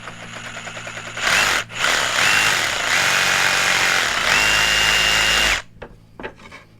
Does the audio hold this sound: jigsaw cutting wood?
yes